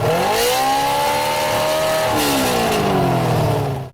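A homemade car's engine runs with its exhaust cut off, loud and raw on its own, its pitch climbing in a sustained rev, dropping around the middle, then holding before cutting out abruptly at the end.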